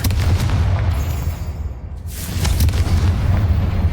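A Confringo fire spell bursts in Hogwarts Legacy with a loud booming blast, followed by a rumbling roar that swells again near the end.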